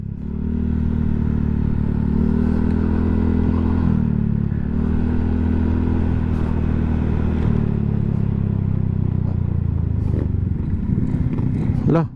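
Motorcycle ridden on a race track, its engine droning loud and steady throughout with slight pitch shifts, close to the listener, with talk over it.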